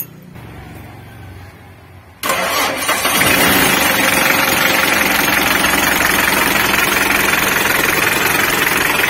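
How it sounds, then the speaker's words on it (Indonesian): A Mitsubishi L300 engine cranks briefly and fires at about two seconds, then settles into a loud, steady running idle with a slight knocking roughness, close by and alone without speech. "untuk motor starternya tidak ada kelainan dan mesinnya bisa hidup"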